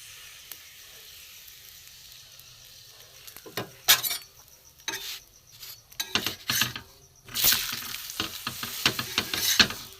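A pea-stuffed paratha fries in a little oil, with soft sizzling that swells into louder crackling bursts and stirring or pressing noises, close by and with no talking.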